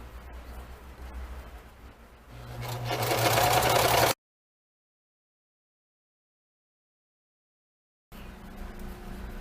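A sewing machine stitching a dish towel runs in a steady whirring hum that speeds up and grows louder, cuts off into silence, then resumes running.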